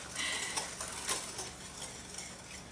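Chocolate chip cookie dough being mixed with eggs for a Claire Saffitz recipe, giving a steady, close run of soft scraping and clinking stirs with brief louder knocks, no voices over it.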